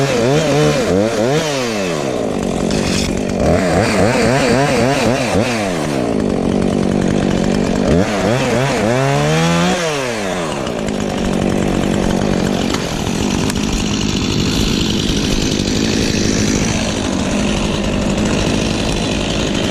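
A Husqvarna 450 or Stihl MS 251 chainsaw that has been dropped 20 feet runs close and loud, revving up and down in repeated sweeps before settling into a rough idle.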